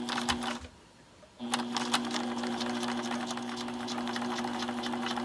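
A new sewing machine stitches at a short 1.5 stitch length, running in a steady fast rhythmic whir with a brief pause near the start before resuming continuously.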